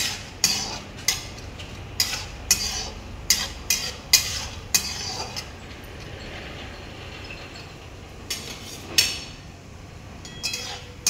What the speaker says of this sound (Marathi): आपण त्याच्यामध्ये काजू बदाम घालून घेऊ। हे चांगले आपल्याला मस्त कडक परतून घ्यायचे